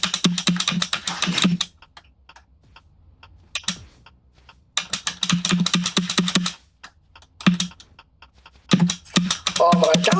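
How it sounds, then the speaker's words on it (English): Fast, clicky typing on a computer keyboard during a game comes in loud bursts separated by short pauses, close to the mic with no talk over it. "Guys, tell me if I should get a better keyboard."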